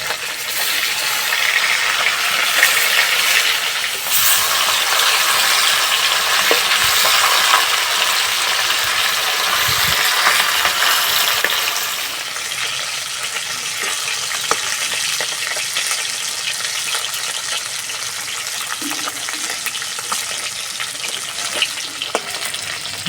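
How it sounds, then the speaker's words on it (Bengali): Pieces of kalbaus fish fry in hot oil in a continuous loud, close crackling sizzle that eases slightly after flipping, with a few faint clinks of a utensil against the pan and no voices. "এক পিঠ ভাজা হয়ে গেছে, উল্টে দেবো।"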